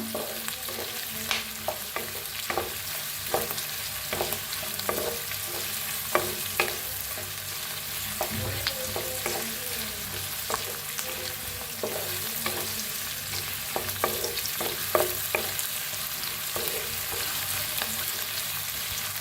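Onion and green chilli roasting in a pan: a continuous close sizzle with frequent short scrapes and taps of a spatula stirring, steady throughout with no talking.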